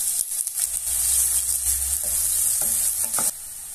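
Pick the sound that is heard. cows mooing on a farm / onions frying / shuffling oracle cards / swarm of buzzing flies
onions frying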